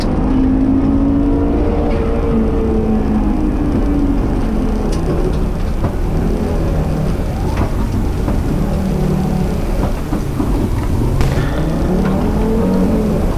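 Rally car on a closed stage at Grimsthorpe Castle, loud engine dropping from about 80 mph as it brakes into a chicane, then revving back up through the gears, close and continuous with no pauses.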